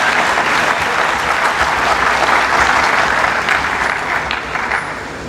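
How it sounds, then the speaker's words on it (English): An audience at an inaugural university lecture breaks into loud, sustained applause, a thick steady clatter of many hands that eases off slightly toward the end. "A round of applause for me"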